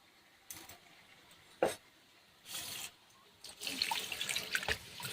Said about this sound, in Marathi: आता आपल्याला ही डाळ स्वच्छ धुवून घ्यायची आहे